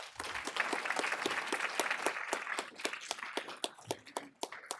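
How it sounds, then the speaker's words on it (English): A modest symposium audience gives a round of applause, with scattered individual claps standing out sharply over a softer wash of clapping that thins toward the end; no voices. "I think we owe all of them a huge round of applause."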